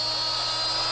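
A hand-held router spins at high speed while cutting a mortise in wood, giving a steady, loud, unbroken whine with a constant hum beneath and no pause.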